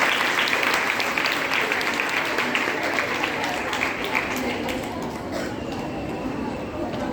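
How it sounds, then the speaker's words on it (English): Sustained applause from an audience after a graceful stage performance, a broad even wash of many hands clapping that fades gently toward the end, heard from some distance. "Let's give them another round of applause"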